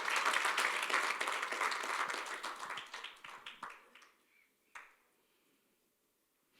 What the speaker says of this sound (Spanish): denle un aplauso a la gloria del Señor.